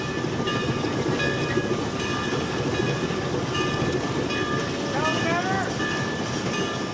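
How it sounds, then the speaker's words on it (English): A Climax steam locomotive rumbles along a short-line railroad in the Pacific Northwest, heard from the cab as a dense continuous clanking and chugging with steady mechanical tones, loud and close throughout. "The Rock Train features one of the rarest cab rides ever caught on video, and one you'll never forget in the notoriously cantankerous Climax locomotive"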